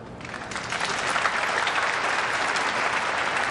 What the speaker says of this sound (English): Well, nice to hear that applause.